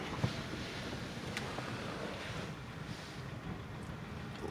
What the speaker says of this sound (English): We are experiencing a high wind advisory.